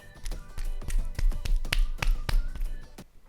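Wet, sticky clicks and squelches from a hot cheese and corn flour slime food, a quick irregular series of close, smacking pops.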